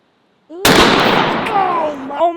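A single enormous gunshot from a 950 JDJ Fat Mac rifle cracks out after a moment of quiet, then a long rumbling decay rolls away, with a voice reacting as it fades.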